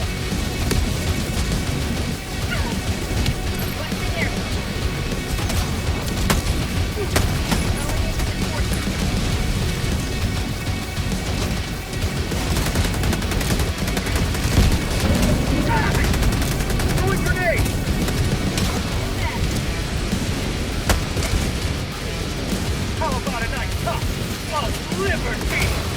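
Dense video game combat plays without pause: rapid gunfire bursts, impact grenade explosions and shooter battle effects against automatons, loud and continuous throughout, with occasional voices mixed in.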